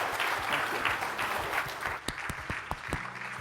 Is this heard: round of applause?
yes